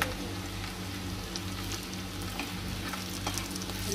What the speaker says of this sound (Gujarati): એને પણ આ જ રીતના અંદર શેકવાની છે મરચાને પણ